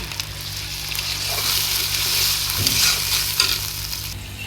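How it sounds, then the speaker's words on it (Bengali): Onion, ginger and garlic sizzle steadily in a hot pan as water is poured in, giving a loud hiss and bubbling with the scrape of stirring close by, no talking. "ভাজা হয়ে গেছে এখন পানি দিয়ে দিব"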